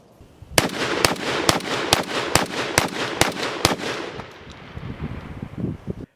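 Beretta A300 Patrol semi-automatic shotgun firing buckshot and target loads, eight sharp loud shots in a quick, fairly even rhythm, followed by ringing echo and faint handling noise.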